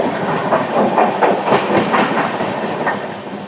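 A Visakhapatnam–Kakinada Port MEMU Express rolls past nearby with steady rhythmic clickety-clack of wheels over rail joints and a broad rushing rumble, loud throughout and easing slightly at the end.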